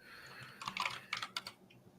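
Fingers tap rapidly on a computer keyboard in a quiet room, a close burst of clustered key clicks in uneven groups.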